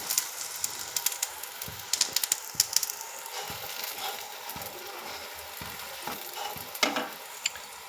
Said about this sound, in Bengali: লাল লাল করে এটাকে ভেজে নেব